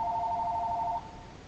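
A telephone ringing indoors: one steady, moderately loud two-tone electronic ring that cuts off after about a second, leaving only faint room noise.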